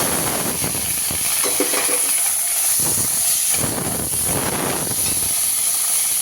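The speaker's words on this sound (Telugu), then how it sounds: "ఇప్పుడు టమాటాలు వేసుకోవాలండి" Tomatoes hit a hot pan while cooking a tomato sesame chutney, giving a loud, close, continuous hiss and sizzle with occasional stirring scrapes throughout.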